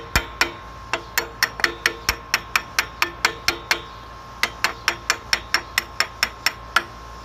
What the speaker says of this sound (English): So we'll just tap this one in.